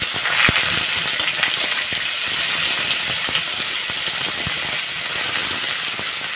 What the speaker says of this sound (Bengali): পেঁয়াজটা আমার লাল করে ভাজা হয়ে গেছে।